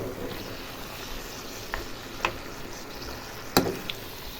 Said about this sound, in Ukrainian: Курячу груднинку смажу для салату із пекінкою.